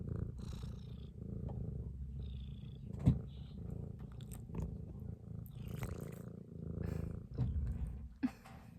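A small, young cat, not quite a year old, purring close up: a soft, continuous low rumble throughout, with a few faint knocks and rustles and no talking.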